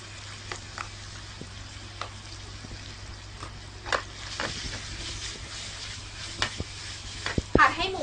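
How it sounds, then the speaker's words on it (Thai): Minced pork stir-fried in a hot oiled wok, a steady low sizzle with scattered clicks and scrapes of a utensil against the pan. "นำหมูสับลงไปผัดค่ะ"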